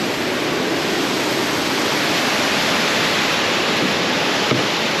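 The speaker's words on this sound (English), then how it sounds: "So let's look at Offspray Falls." Offspray Falls in Wells Gray roars with a loud, steady rush of falling water, broadband and unbroken for the whole stretch.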